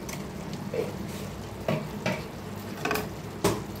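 A spoon scrapes and stirs mutton pulao in a pot over a faint steady sizzle, with a few distinct scraping strokes spaced about a second apart, close and fairly quiet.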